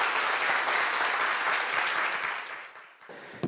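Audience applause for a professor after his lecture at a Nobel Prize talk concert, many hands clapping loudly and steadily, then fading out near the end.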